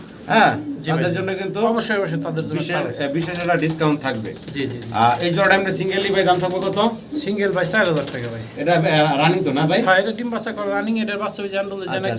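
Andalusian pigeons coo close by in repeated rolling, throaty calls that rise and fall, with one bird's cooing overlapping another's almost without pause.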